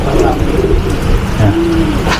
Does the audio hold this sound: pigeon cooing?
yes